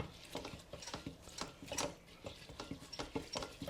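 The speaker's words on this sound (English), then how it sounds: "Mix everything up." Rice mixed with oyster sauce and dark soy sauce being stirred in a rice cooker pot, a run of quiet, close scraping and clicking strokes in an uneven rhythm, with no voices.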